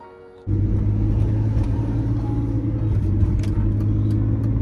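A BMW E46 car engine starts up and a steady low rumble of driving follows, close and continuous with faint road noise throughout.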